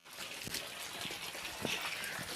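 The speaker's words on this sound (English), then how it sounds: "Now let's put some water for the cows because they need a lot of water for the milk." Water trickling and pouring steadily for cattle on an organic farm in Africa, a continuous liquid splash with brief louder spurts, close by and alone.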